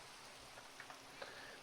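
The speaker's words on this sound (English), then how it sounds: "Definitely some rain, that's for sure." Steady hiss of falling rain in the Minecraft world, a soft, even wash with a few faint drip-like ticks, quiet and continuous without voices.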